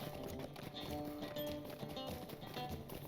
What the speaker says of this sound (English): let's get on the horse.